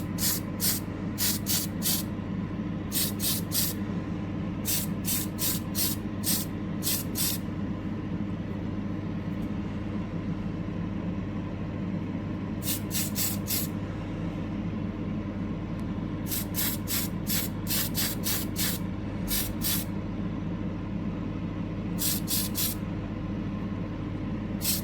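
A spray can puts primer on a small model Ford 15 CWT van in short hissing bursts, clustered in groups of quick squirts with pauses between, close up over a constant low background hum.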